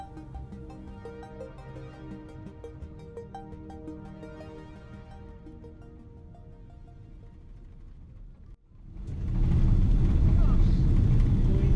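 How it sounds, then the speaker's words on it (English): United Airlines Boeing 777-200ER landing on runway 27 right at London Heathrow, heard from the cabin: a steady interior hum that suddenly swells into a loud, roaring rush of touchdown and reverse thrust filling the final seconds. "Lined up to land now on runway 27 right."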